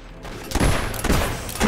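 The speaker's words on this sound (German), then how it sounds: "Ich hab den Baum erschossen." Loud, close gunfire in the fantasy game Fable III: a heavy volley of shots breaks out, then a second burst follows, each with a booming, rough body.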